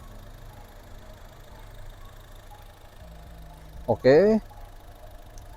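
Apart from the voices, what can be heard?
Honda Brio Satya car engine idling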